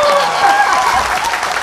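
Loud, dense audience applause for a singer on the Nepal Lok Star TV singing competition, with crowd cheers and whistles mixed into the continuous clapping.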